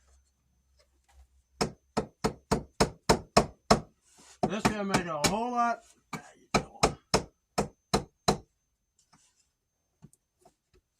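Wood blocking hammered flush to a wall stud for a drywall repair, a quick series of close, sharp hammer knocks, paused briefly while someone speaks, then resuming in steady strokes.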